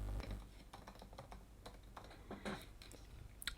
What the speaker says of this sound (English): We can simply just type in here